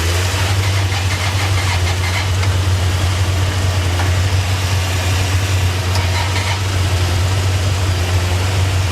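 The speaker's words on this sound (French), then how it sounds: "Elle tourne au ralenti." A Honda 600 Transalp motorcycle engine idling, a steady low throbbing hum with a constant even pulse, close and loud, no voices over it.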